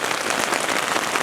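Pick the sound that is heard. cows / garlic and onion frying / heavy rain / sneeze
heavy rain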